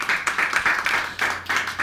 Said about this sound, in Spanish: Un aplauso a nuestro Señor.